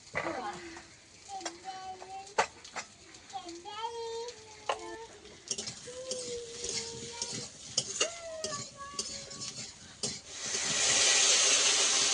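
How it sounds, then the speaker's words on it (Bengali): Fried potatoes with onion, green chilli, salt, turmeric and spices stirred in a pan, with repeated scraping and a soft sizzle, near and moderately loud, under a voice talking throughout; hissing swells louder at the end as water goes in. "আবার সেই ভাজা আলুটা দিয়ে দিচ্ছি সামান্য একটু কষিয়ে নেব লবণ হলুদ পরিমাণ মতো দিয়ে"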